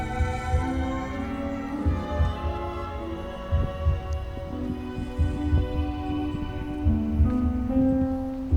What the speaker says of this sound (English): I don't know if you can hear the beat, the heartbeat.